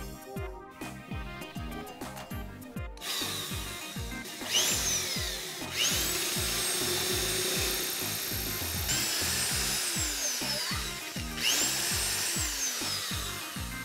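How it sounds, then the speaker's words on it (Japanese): A power drill bores a hole into an Epsilon 180 telescope, running continuously with a rising and falling whine and repeated grinding bursts, close and fairly loud, with no speech. "では、イプシロン180に穴を開けたいと思います。"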